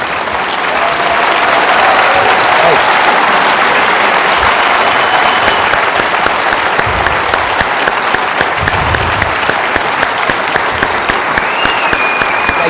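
A forum audience breaks into loud, sustained applause, dense clapping filling the room throughout, with a brief spoken word at the start.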